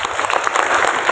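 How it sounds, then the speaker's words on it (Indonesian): A short burst of audience applause at a PDKK Gabriel community gathering in Semarang, dense, close clapping from a crowded room, loud and steady throughout. "luar biasa, tepuk tangan ya."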